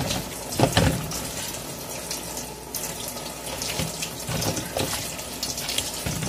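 Tap water runs steadily into a cooking pot while a home cook makes a Sunday lunch of parmigiana, with rice and beans; a continuous close splash and gurgle lasts throughout, swelling slightly in the middle, with no talking.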